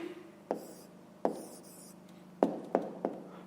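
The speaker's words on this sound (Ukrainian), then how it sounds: "пишемо відповідь" A pen writes an answer for a fifth-grade maths exercise, making five short, close, scratchy strokes separated by brief pauses.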